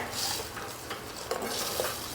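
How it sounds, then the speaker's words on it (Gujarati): Crushed bottle gourd stirred into hot tempering in a kadai, giving a soft continuous sizzle with scraping spoon strokes and a couple of light metallic clinks, close and steady with no talking. "હવે આપણે જે દૂધી ક્રશ કરીને રાખેલી છે ને એ કઢાઈમાં ઉમેરી દઈશું અને ક્રશ કરેલી દૂધી પણ આપણે વઘાર સાથે સરસ મિક્સ કરી લઈશું।"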